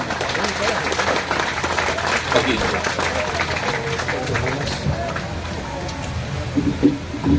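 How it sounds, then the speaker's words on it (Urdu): An audience claps dense and sustained at a foundation stone ceremony for a rehabilitation center for disabled persons in Khura, with voices and crowd murmur mixed into the applause. "آپ کی بھرپور تالیاں"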